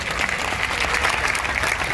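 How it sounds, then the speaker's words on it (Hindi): At a protest rally of ministerial staff, a large crowd claps loudly in a dense, continuous burst of applause. "जोरदार तालियां बजा दो सर।"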